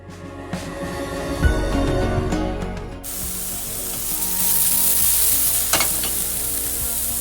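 Food frying in a pan, a steady hiss and crackle that turns brighter and louder partway through, with occasional clinks, close up.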